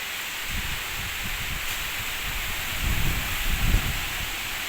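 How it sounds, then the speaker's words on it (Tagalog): Steady roaring typhoon wind with a broad hiss of heavy rain in the Bicol Region, swelling into stronger rumbling gusts toward the end, with no voices. "Lakas ng hangin at ng ulan."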